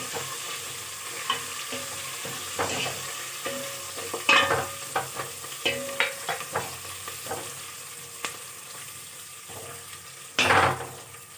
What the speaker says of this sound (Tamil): பூண்டு, கருவேப்பிலை, கொத்தமல்லி, புதினா போடுவோமா? போட்டு நல்லா வதக்கி விட்டுறணும்.